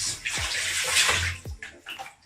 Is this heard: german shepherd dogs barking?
no